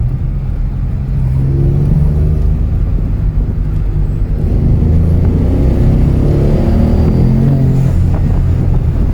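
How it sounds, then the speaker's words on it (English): A turbocharged Mini accelerates hard in second gear, a loud close engine drone rising in pitch with rumbling through the cabin and a few irregular exhaust bangs and pops near the end. "Accelerate in second and let off, and then all the bangs and pops will alert them to your presence."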